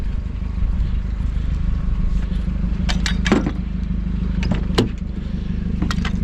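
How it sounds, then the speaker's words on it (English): A motorcycle engine with no exhaust putts along, a rough low rumble running throughout with sharp clattering knocks and clicks scattered over the top, loud and close. "are you just hearing my put, put, put of my non-existent exhaust?"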